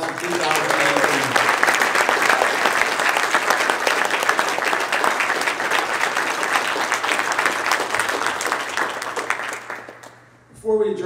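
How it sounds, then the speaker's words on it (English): Sustained audience applause at a 2019 Modeling & Simulation Hall of Fame awards ceremony, a dense wash of clapping from a large crowd that fades out near the end before a voice returns. "let's have one more round of applause for the Hall of Fame class of 2019"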